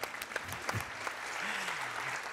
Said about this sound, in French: J'ai senti un applaudissement.